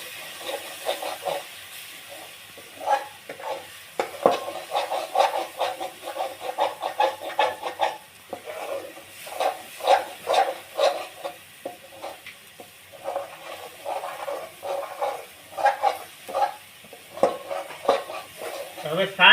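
Soft sizzling of a Kathiyawadi spice tempering with red chilli powder in a pan, with repeated scraping stirs of a spoon, a steady rhythmic clatter over a low hiss.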